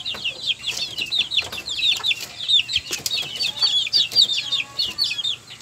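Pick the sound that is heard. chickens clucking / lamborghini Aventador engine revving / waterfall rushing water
chickens clucking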